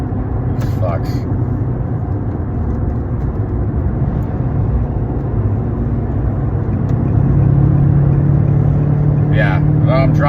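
Steady road and engine drone from inside a car cruising on Interstate 84 in Connecticut, New England, a continuous loud rumble that swells slightly near the end, with brief higher tones and a speaking voice audible at times.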